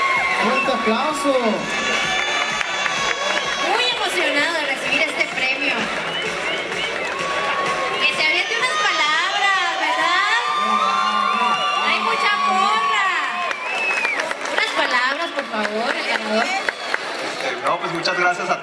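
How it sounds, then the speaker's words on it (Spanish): An audience at an awards gala cheers and shouts loudly, with excited voices, whoops and scattered clapping in a lively, continuous din that stays close and busy throughout. "¡Fuerte aplauso!"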